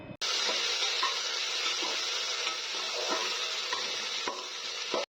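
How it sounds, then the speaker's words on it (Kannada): Chopped onion fries in a pan, a steady bright sizzle throughout with occasional soft clicks from stirring, close and fairly even in loudness. "ಇವಾಗ ಅದನ್ನು ಸೇರಿಸ್ಕೊಂಡು ಈರುಳ್ಳಿ ಕಲರ್ ಚೇಂಜ್ ಆಗೋವರೆಗೂ ಫ್ರೈ ಮಾಡ್ಕೋತೀನಿ."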